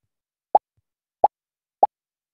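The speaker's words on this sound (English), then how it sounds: "So you would say play sound pop until done." A cartoonish pop sound effect, triggered by clicking an object in a block-coding program, plays three times at even intervals, short and clean against silence.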